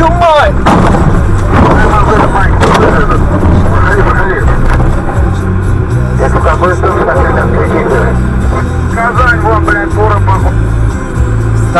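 A road near-miss with a truck: loud, continuous rumbling vehicle and road noise throughout with sharp impacts and jolts, while voices shout and talk over it.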